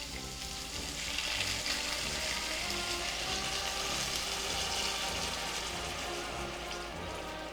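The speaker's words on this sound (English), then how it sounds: "I'm going to turn the heat down a little bit. And I'm going to add in some vegetable broth" Vegetable broth hits a hot pan of braised carrots, giving a steady, dense sizzle and bubbling hiss that holds at an even level throughout, close and continuous with no voices.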